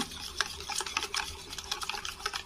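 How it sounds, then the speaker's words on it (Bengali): Tal palm pulp and batter being beaten by hand in a bowl for palm bread, a steady quick run of soft wet slapping and stirring strokes, close and fairly quiet, with no talk. "ভালো করে আমি ফেটে নেব।"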